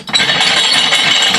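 A hold-down clamp on a tire-mounting fixture is fastened close by, giving a loud, continuous metallic ratcheting and clinking for about a second and a half.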